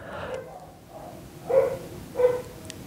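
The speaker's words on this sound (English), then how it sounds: "These dogs are going completely crazy" Several faint barks from neighborhood dogs outdoors, spaced irregularly with two stronger barks near the end, heard at a distance.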